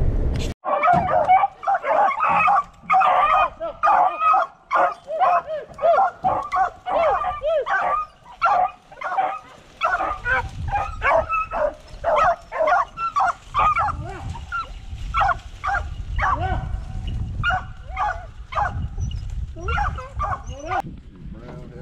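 Hunting dogs bay and yip repeatedly in a lively, overlapping chorus while chasing a rabbit outdoors, loud and near at first, then continuing under low rumbling handling noise and occasional talk.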